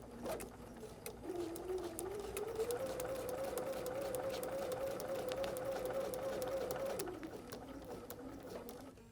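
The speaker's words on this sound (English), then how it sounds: "we're going to start just before the line and sew directly on the line" Sewing machine stitching directly on the line for foundation paper piecing, a steady mechanical whir that rises, holds for several seconds and stops.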